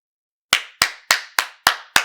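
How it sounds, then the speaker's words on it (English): Six sharp hand claps ring out in a steady, evenly spaced rhythm after a moment of silence, loud and close, each with a brief decay and no voices. "Come on. Give her a hand clap out there."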